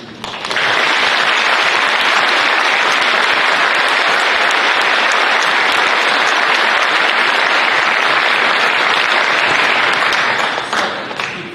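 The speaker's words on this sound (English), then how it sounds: "they too deserve another in your gratitude and appreciation" Audience at a Class of 2024 graduation commencement ceremony applauds, a dense, loud and steady wash of many hands clapping that swells in quickly and holds for about eleven seconds before easing slightly at the end.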